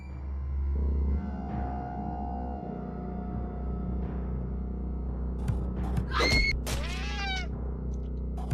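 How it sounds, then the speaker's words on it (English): A scared cat in a video game lets out a couple of sharp, high, wavering meows near the end, over a low steady ambient hum and faint background sounds. "Cat is scared."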